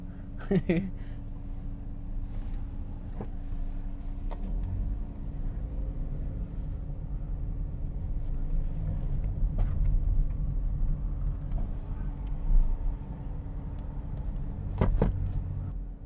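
A car driven by a new driver near Arafat in Saudi Arabia, with a steady low engine and road rumble throughout and a few brief clicks and knocks inside the cabin.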